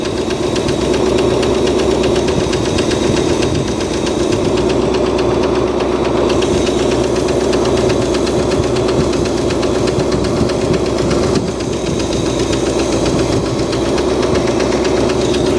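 An old Cadillac engine, run after sitting for over 30 years, idles loudly and steadily, with a rough, knocking rumble running the whole time and no voices.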